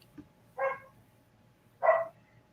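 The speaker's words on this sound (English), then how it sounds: "now my dogs have decided to start barking" Two dogs give two separate barks about a second apart, moderately close, against a quiet room.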